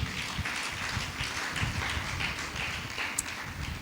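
A church congregation claps together in a dense, steady patter of many hands that lasts throughout, fairly close and even in loudness.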